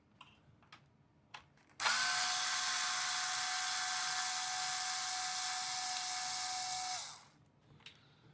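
A power tool driving a screw out of an RC model, a single high-pitched whirring burst of about five seconds, close and loud against a quiet background with a few small clicks before and after.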